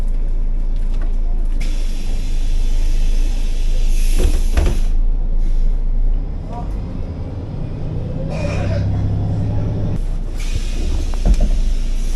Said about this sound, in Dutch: De bus is terug vertrokken.